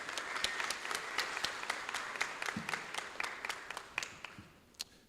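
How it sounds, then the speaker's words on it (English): Audience applause for Dr. Williams at a student celebration event, scattered individual claps in the room forming a moderate, uneven patter that thins out toward the end. "Round of applause for Dr. Williams."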